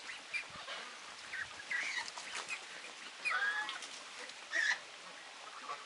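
Geese and ducks at a backyard pool give scattered honks and quacks in short bursts, moderately near, against faint outdoor background.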